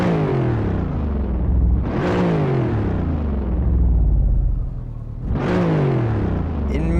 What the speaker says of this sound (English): I wanted to show you the standard Kunos sound of the M5 159 engine in this case